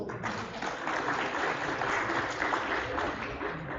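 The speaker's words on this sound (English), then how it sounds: "Please give her a big round of applause." An auditorium audience at an entrepreneurship summit applauds in a steady, moderately loud wash of clapping that continues throughout.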